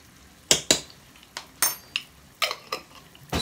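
A spoon stirring thyme into a pot of Nigerian fish stew, with a quick series of sharp metallic clinks and scrapes against the pot, close and fairly loud, irregularly spaced.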